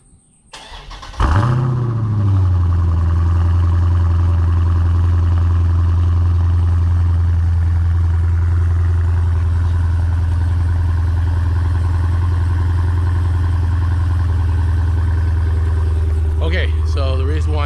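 A Dodge Challenger 392 with stock mid mufflers starts up with a sharp crank and catch, then settles into a loud, steady, deep idle rumble up close, with a brief blip near the end.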